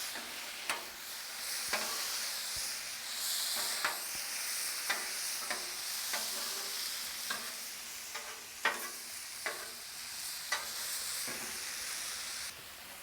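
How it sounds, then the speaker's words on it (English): Wagyu steak tips and onions sizzle steadily on a Blackstone griddle while a spatula stirs them, scraping and tapping the hot surface in irregular knocks over a continuous frying hiss; no talking. "Then I'm actually going to incorporate the onions back into it. You just kind of start stirring them around."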